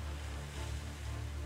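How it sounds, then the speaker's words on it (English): Stormy sea waves in a video game: a brief, steady roar of heavy surf and rushing water, loud and continuous, with no voices. "Yeah, this storm is a fierce one"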